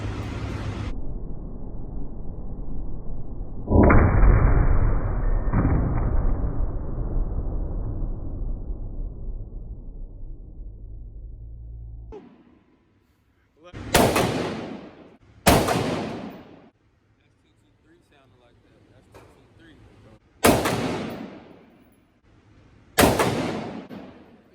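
Gunshots ring out at an outdoor shooting range. Four sharp, loud reports, each trailing into a short echo, are spaced a couple of seconds apart after a stretch of rumbling background noise, and no one talks.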